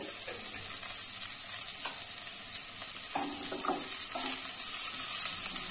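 Momo soup filling frying and sizzling in a pan, stirred with a spoon that makes scraping and clinking taps against the pan over a steady hiss.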